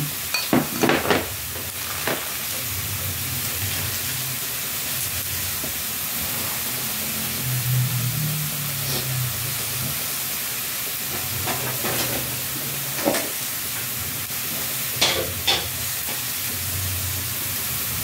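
Meat frying in a pan with black beans and banana blossom for Visayan humba, stirred until browned in its own fat: a steady sizzle with scattered scrapes and clacks from the stirring, close and moderately loud, no talking.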